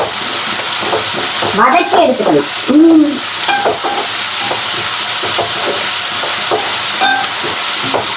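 Onions with salt sauté in a pan for chicken curry: a steady, loud sizzle runs throughout, broken by scraping stir strokes, with brief voice-like sounds near the start.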